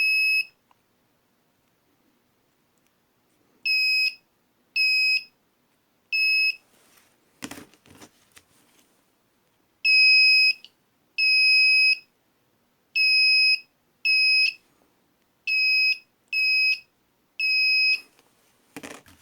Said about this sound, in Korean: 소리를 좀 시원하게 해서 그냥 저런 약식으로 되어 있는 테스트기도 사용할 때가 있긴 있습니다